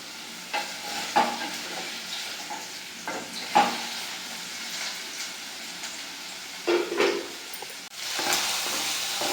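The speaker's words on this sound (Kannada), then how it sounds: "ಇದು ಚೆನ್ನಾಗಿ ಈಗ ಫ್ರೈ ಆಗಿದೆ" Potatoes frying in hot oil give a steady broadband sizzle throughout, broken by a few sharper stirring scrapes and clatters, with a louder burst of sizzling near the end.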